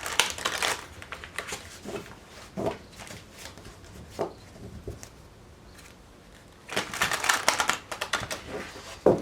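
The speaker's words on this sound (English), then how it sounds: "Let me get these nice and shuffled for you." Crisp bursts of shuffling tarot cards, riffled in quick flurries with short pauses between, close and fairly loud, no voices.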